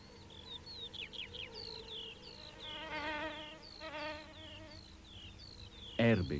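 Insects buzzing among wildflowers in the Vosges mountains, a steady low hum with birdsong chirping over it and a louder, closer thump near the end.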